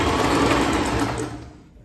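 A sewing machine runs in a fast, steady whir while stitching the waistband of a pattupavada skirt, loud and close, then slowing and fading at the end.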